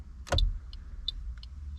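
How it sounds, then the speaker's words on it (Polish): The left turn signal of a Toyota Yaris clicks softly inside the car, a few faint ticks after a louder knock from the stalk. "Jest lewy kierunkowskaz. Słyszymy klikanie."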